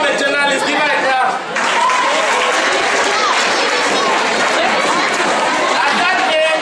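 Students clapping at a cancer outreach event at Government Bilingual High School in Muea, loud sustained applause from a crowd mixed with cheering and chatter filling the room.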